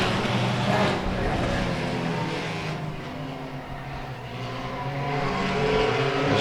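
Race cars pulling away at the start of a heat at Tomah-Sparta Speedway during Hobbyfest, a dense, continuous engine roar that swells, dips slightly and builds again as the pack accelerates.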